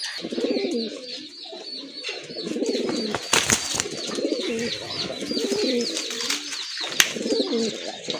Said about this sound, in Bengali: অসাধারণ এক জোড়া কবুতর যাদের এই জোড়াটা ভালো লেগেছে